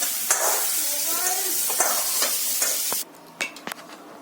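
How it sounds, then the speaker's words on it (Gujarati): Broccoli sizzles in a pan as a spoon stirs and scrapes it, a close, crackling fry with clinks and scrapes that drops to near quiet toward the end, followed by a few scattered utensil knocks. "બ્રોકોલી સારી રીતે સંતળાઈ ગઈ છે હવે હું એને બહાર કાઢી લઈશ"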